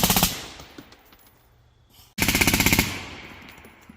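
A suppressed AR15 rifle fires two close, loud strings of rapid shots separated by a quiet gap of about two seconds, with no talking.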